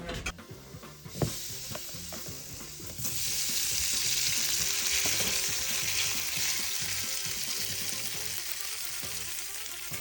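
Schupfnudeln fry in a single layer in a big fry pan, a few clinks and scrapes giving way to a loud, continuous close sizzle that holds steady for the rest of the clip.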